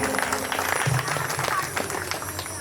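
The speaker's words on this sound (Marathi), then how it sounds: "या मोहिनी भगवंतासाठी एकदा जोरदार टाळी वाजवायची आणि गुणीजनांसाठी सुद्धा एकदा जोरदार टाळी" Audience applause at a Shiva Mahapuran religious discourse gathering, a steady wash of many hands clapping at moderate distance, sustained for the whole stretch with a faint murmur mixed in.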